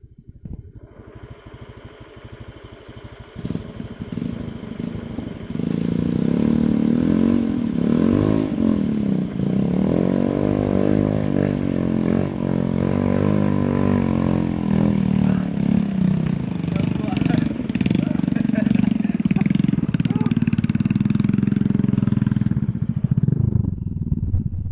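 A motorcycle engine on the way to a clove garden, clattering at first, then revving up and running steadily and loudly close by for most of the ride before dropping off at the end.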